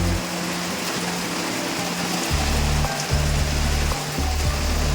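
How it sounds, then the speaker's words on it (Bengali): Heavy midday rain pours down in a dense, steady hiss, with a low rumbling hum that starts and stops underneath throughout. "দুপুরবেলা এত জোরে বৃষ্টি এসে গেছে"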